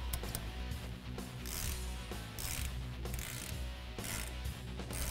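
A ratchet wrench tightening a nut on a Jeep Wrangler JK steering attenuator, repeated quick clicking strokes in short bursts, close and fairly clear with no talking.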